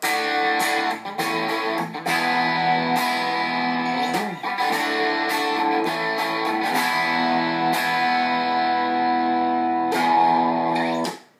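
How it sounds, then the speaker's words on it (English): Electric guitar played through a modeling amplifier device into a tube amp with a mildly driven tone, strummed chords and riffs with short pauses between phrases. "That is the sound of a modeling amplifier device plugged into a tube amp"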